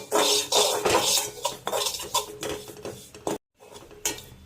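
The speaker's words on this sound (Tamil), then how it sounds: "இப்போ அதே பேனில் ஒரு கொத்து கருவேப்பிலையை நல்லா வறுத்து எடுத்துக்கலாம்." Curry leaves being dry-roasted in a pan, heard as busy scraping and stirring clatter of a utensil against the metal, with light rustling, continuous and close apart from one brief silent gap.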